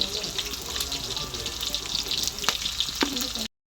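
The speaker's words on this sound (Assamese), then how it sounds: "পেষ্টটো ব্ৰাউন নোহোৱালৈকে ভাজিব লাগিব" Onion paste frying in a pan gives a steady broadband sizzle throughout, with a few sharp clicks of a utensil against the pan near the end and faint background noise.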